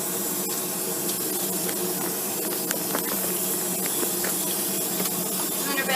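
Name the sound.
water sprayer rinsing soap off a puppy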